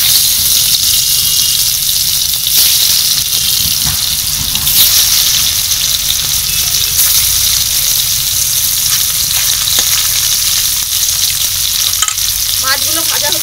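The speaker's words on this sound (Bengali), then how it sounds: "মাছগুলো ভাজা হতে থাকুক" Pangas fish fry in hot oil with a loud, continuous crackling sizzle and frequent sharp pops, close and steady throughout with no talking.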